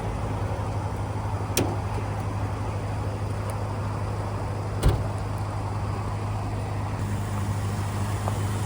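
A 2002 Jeep Grand Cherokee WJ with a replacement engine idles quietly and smoothly with a steady low hum, a couple of faint clicks or knocks over it, no talk.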